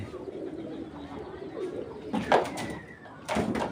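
Racing pigeons cooing nearby in low throaty bursts, a few calls rising over soft background rustle.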